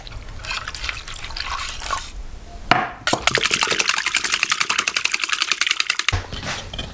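Two cups of whole milk poured into a bowl of beaten egg mixture for a bread breakfast casserole, a close, bubbling liquid gurgle that swells into a rapid glugging pour and stops suddenly.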